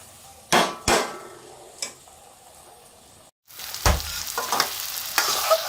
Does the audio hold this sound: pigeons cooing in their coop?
no